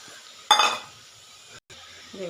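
Fried eggplant and potato tipped into a pan of drumstick-flower curry, a sudden loud sizzle and clatter that fades into soft stirring scrapes, with a brief voice at the end.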